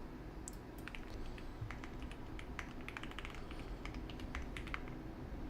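Rapid typing on a computer keyboard during a coding practice session, a steady stream of quiet, close key clicks over low room hum with no voices.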